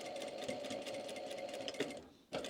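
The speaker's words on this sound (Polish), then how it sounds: "Tutaj także zaczynam szyć od środka" Sewing machine stitching a Christmas cushion, a close, even rapid buzz of the needle running continuously, then briefly stopping and starting again.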